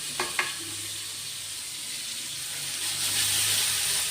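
Elephant yam (karunai kizhangu) pieces dropped into hot oil, a couple of quick splashes then a steady, close frying sizzle and hiss that swells toward the end.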